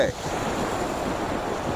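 Ocean surf washes steadily where the Bay of Bengal, Arabian Sea and Indian Ocean meet, a continuous broad hiss with some wind buffeting the microphone.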